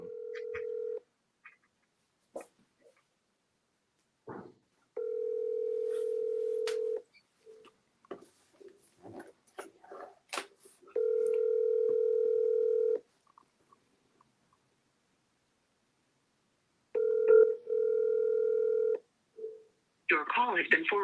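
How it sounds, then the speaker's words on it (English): An outbound phone call to a sales lead rings repeatedly, with long steady ring tones separated by silence, accompanied by scattered keypad beeps and clicks, and brief talk at the end. "I'm triple dialing."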